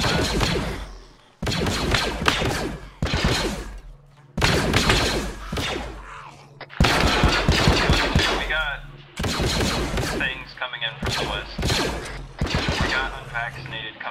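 Bursts of gunfire in Arma 3, a Star Wars military-simulation session with clone troopers, come in several loud volleys of rapid shots and mixed with voices talking over the action.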